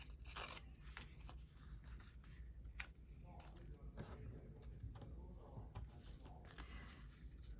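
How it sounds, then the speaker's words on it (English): Crackly decorative paper handled and cut with scissors while filling envelopes, giving close, quiet rustling, crinkling and snipping in irregular bursts over a soft background. "It's a very cracky sort of paper."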